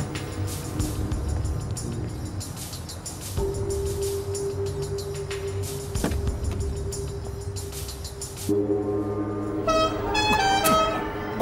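Car horn honking in a street scene, heard as a series of short and sustained horn blasts amid traffic noise, ending in a louder stretch of horn tones toward the close.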